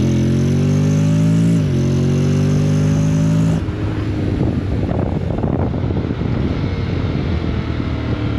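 A Honda X-ADV 750 motorcycle accelerates, its engine note climbing loud and close through a shift, then giving way to rushing wind buffeting the microphone as speed builds.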